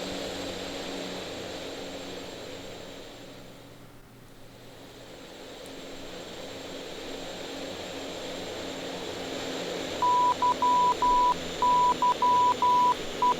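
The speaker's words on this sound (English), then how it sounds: "and we'll just taxi out to the runway" Propeller aircraft, an Aerosoft Bronco in FSX, taxiing toward the runway with a steady broadband engine drone that dips briefly then holds, joined near the end by a series of short beeping tones.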